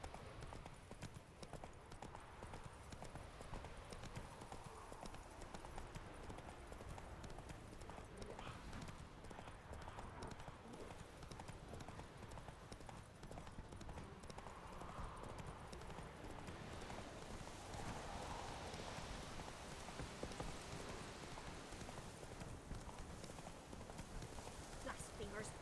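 Hooves of the horse Roach clip-clop steadily through the open world of The Witcher 3 in Velen, a continuous rhythmic gait over faint rain-like ambience, with talk heard at times.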